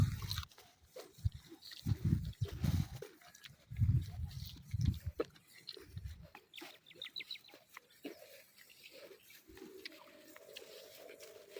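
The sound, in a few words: chicken clucking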